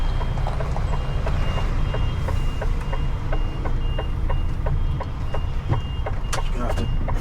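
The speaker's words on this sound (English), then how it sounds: "It's not my trailer that's beeping, it's forklift anyway." A forklift's reversing alarm beeps in a steady repeating rhythm, moderately distant, over a low truck engine rumble with occasional voices.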